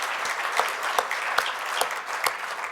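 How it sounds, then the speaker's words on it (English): An audience at a panel discussion on the life of boxer Battling Siki applauds someone in thanks, giving a brief, steady round of clapping with a few sharper individual claps standing out near the front. "please give her a round of applause"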